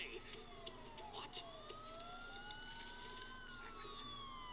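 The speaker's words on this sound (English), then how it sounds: "Sirens. The police." Police sirens wail in the Batman Arkham Asylum video game, several overlapping tones sweeping up and down at moderate distance over a low background hum, with no talking.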